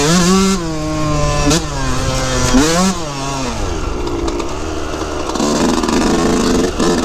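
A two-stroke dirt bike rides off-road in the Dillon, Colorado area, its engine loud and close with rising revs, throttle blips and gear changes as it accelerates.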